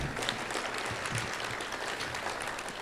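Audience applause at a Rotary Club of Tucson centennial gathering, a steady wash of many hands clapping that fills the room for the full stretch without a break.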